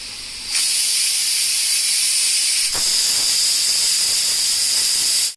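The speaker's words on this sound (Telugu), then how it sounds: "కుక్కర్ మూత పెట్టుకొని పది నుంచి పదిహేను విజిల్స్ రానివ్వాలి అప్పుడే మటన్ బాగా కుక్ అవుతుంది" Pressure cooker cooking mutton curry lets out a loud, sustained steam whistle that hisses on steadily for several seconds with a brief dip midway, close and alone without talk.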